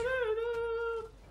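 A single drawn-out cat meow, close and clear, holding a steady pitch for about a second before trailing off.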